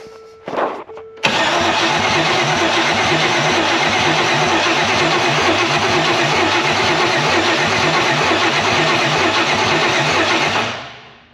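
A 5.3 LS V8 swapped into a Land Rover Discovery 2 cranks briefly, then catches and settles into a loud, steady, lumpy idle close by, ending as it shuts off.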